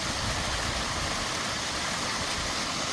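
Small waterfall at Lee Falls, a continuous loud broadband rush of falling water that stays constant and close throughout, with no voices.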